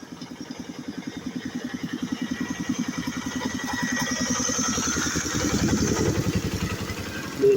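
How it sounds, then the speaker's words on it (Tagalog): Three-wheeler engines pass by, a steady low engine chugging that swells louder toward the middle and end before tapering off, with no talk over it. "Ngayon guys, puro mga makina yung narinig natin. Hindi kaul ng aso."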